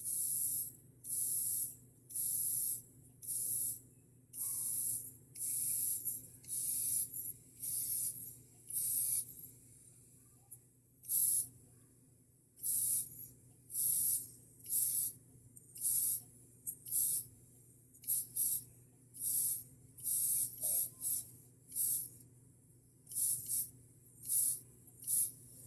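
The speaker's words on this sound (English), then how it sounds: "So I'm going to go back and mist on some of this." Airbrush misting flesh-coloured base paint onto a quarter-scale Wolverine figure: a steady series of short hissing spray bursts, about twenty in all, each lasting around a second, close and clear over a faint low hum, with no talking.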